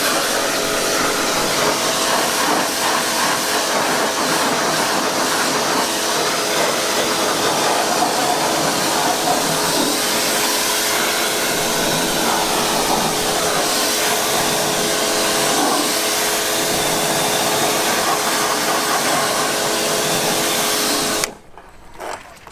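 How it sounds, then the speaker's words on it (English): A pressure washer on its hard setting rinses down a Honda Integra Type R DC5, a loud, steady broadband hiss of spray holding at one level for about twenty seconds before cutting off abruptly near the end. "I'm going to get the JETWASH now, put it on hard, because there is two settings, hard and soft"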